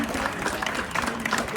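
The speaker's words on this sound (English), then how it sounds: "can we have a round of applause, because it's 3 teams, to the match officials today" A crowd at a Sunday league cup final presentation claps for the match officials in a loud, close, busy patter. Voices murmur and call out underneath.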